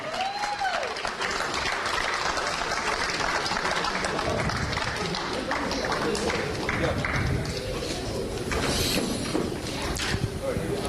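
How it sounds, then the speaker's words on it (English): An audience applauds at a carrom championship singles final, with dense, sustained clapping filling the room at an even loudness and voices faintly audible beneath it. "We have one more round of applause."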